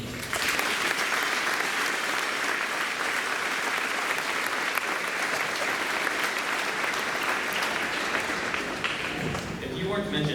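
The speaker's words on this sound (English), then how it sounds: "Can we please give all these teams a round of applause for their achievements?" At a high school graduation ceremony, the crowd gives loud, dense, sustained applause for students' achievements; it runs unbroken for about ten seconds with a murmur of voices in the mix before fading at the end.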